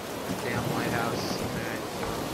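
Heavy rain and a rumble of thunder in the game BioShock Infinite, a dense continuous wash of sound with faint tonal sounds over it.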